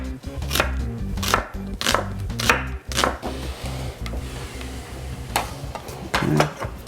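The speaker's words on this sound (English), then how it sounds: "So we're just going to cut some onions. You're gonna go julienne with these." A knife chopping onions into julienne strips on a board, about a dozen sharp close thuds in an uneven rhythm, some rapid, with faint background noise between strokes.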